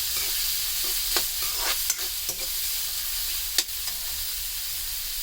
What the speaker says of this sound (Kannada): ಈಗ ಇದನ್ನು ಫ್ರೈ ಮಾಡ್ಕೋಬೇಕು.